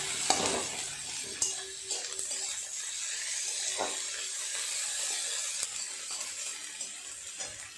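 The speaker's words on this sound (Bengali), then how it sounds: "পেঁয়াজটা একটু ভালো করে নেড়ে চেড়ে লাল করে ভেজে নিতে হবে" Chopped onion stirred and fried in a pan for a fish-head curry, giving a steady broadband sizzle with scattered scraping clicks from the spoon against the pan, close and alone.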